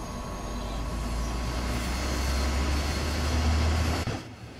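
An electric class 143 locomotive powering up slowly in the Train Sim World 2 video game on the Dresden–Riesa S-Bahn line, a steady low motor drone and broad rushing noise that cut off abruptly near the end.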